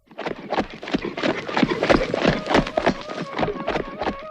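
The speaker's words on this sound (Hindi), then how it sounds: "उसने आओ देखा ना ताओ अपना घोड़ा आगे बढ़ा दिया।" A horse ridden by a prince clip-clops forward, a quick, even run of close, crisp hoof strikes that continues throughout.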